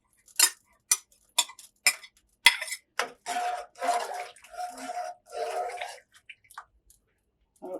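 Spanish rice and salmon stirred in a pot: a string of sharp metallic clinks and taps, then several longer scraping swishes, with quiet gaps between strokes.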